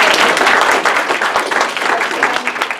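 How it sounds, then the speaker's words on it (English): An audience at a judicial candidates' forum for the 2018 Pinellas and Pasco elections claps loudly and continuously, a thick wash of many hands with scattered sharper claps throughout. "we can give her a big round of applause"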